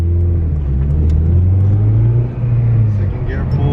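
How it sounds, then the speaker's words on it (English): Honda Civic Si accelerating on a test drive, heard from inside the cabin: a loud, rising engine drone with a low rumble, with voices talking over it. "We're gonna take it for a little test drive."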